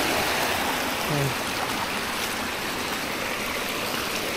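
Stream water flowing across a farm lot makes a steady, broad rushing wash from start to finish, close and continuous, with no talking.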